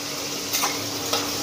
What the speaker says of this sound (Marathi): त्याच्यामध्ये आपण याला स्टेअर करत राहायचं कंटिन्यू।